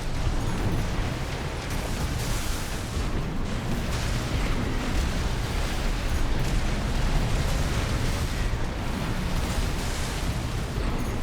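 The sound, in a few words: plasma launcher hits the player's mech in video game Armored Core 6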